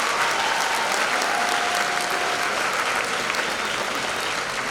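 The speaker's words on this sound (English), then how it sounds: "I think we should another round of applause for our wind ensemble." Audience applause for a school wind ensemble at a Founder's Day event: dense, steady clapping from a large crowd holding an even level throughout, with no voices standing out.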